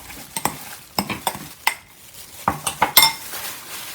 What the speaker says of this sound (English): I'm going to nicely just mix everything now.